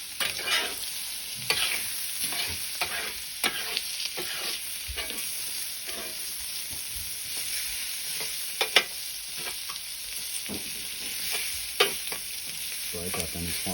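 Beef, prawns, vegetables and noodles stir-fried on a Weber barbecue with a little oil, loud steady sizzling under repeated scraping and tossing strokes of a utensil, close and continuous throughout.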